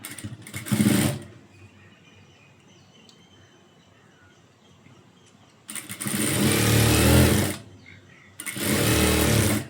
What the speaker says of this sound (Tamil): இதை அப்படியே ஒரு மடக்கி அப்படியே மேல் பக்கமாக வந்து ஒரு அமுக்கு தையல் போட போகிறேன்